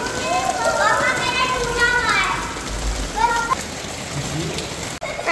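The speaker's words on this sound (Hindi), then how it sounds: "चलो, तेज़ बारिश हो रही है।" Heavy rain pours steadily on a rooftop in Riyadh, Saudi Arabia, a dense continuous hiss under excited family voices and children's chatter, with a brief sharp knock near the end.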